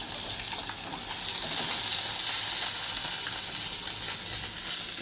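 Bhola fish sizzles in a frying pan, a steady soft crackling hiss that swells slightly midway and continues alone without talk.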